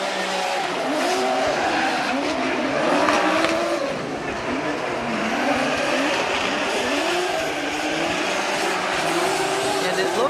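Drift cars slide through a corner at Gransnow Okuibuki in Shiga during a Formula Drift Japan Top 16 battle, tires squealing continuously over roaring engines, with crowd and commentary noise beneath.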